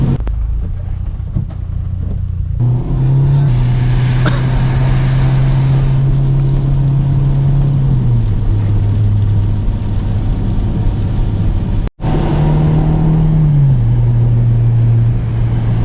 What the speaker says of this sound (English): you could just hear a little bit exhaust leak and hiss coming from the flex pipe